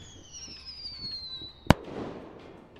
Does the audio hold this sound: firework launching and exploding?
yes